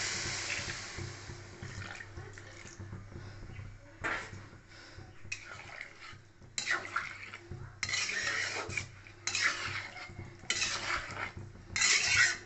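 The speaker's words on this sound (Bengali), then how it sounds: "এবারে দিয়ে দিব আমি জল" Water poured into a pan of mustard soybean curry, splashing and stirring in bursts with scraping against the pan, moderately close, each gush separated by short quieter gaps.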